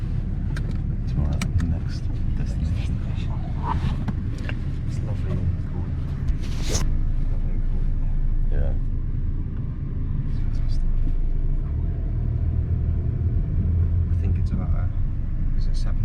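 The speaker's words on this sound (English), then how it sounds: "Yes, we've just got on the taxi" A taxi ride in Malta, with the car's engine and road noise rumbling steadily and close throughout while passengers chat over it.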